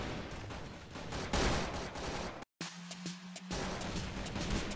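Heavy, nearly continuous gunfire rattles through a Crossfire match, dense overlapping shots filling the scene with a brief drop-out before the barrage resumes.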